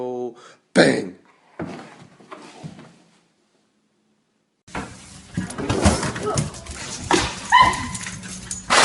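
A dog whimpering and yipping in a series of high, wavering cries, close and loud, alternating with silent gaps and a person's voice speaking nearby.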